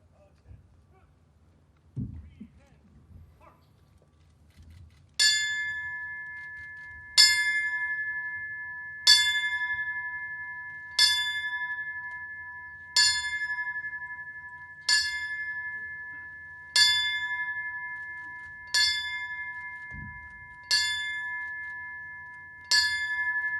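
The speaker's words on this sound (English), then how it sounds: "signaling the last alarm of 10 fire bells" A fire bell strikes ten times as the last alarm at a 9/11 memorial ceremony, at an even, slow pace, each clear ring decaying before the next, alone in a quiet room after a few faint rustles.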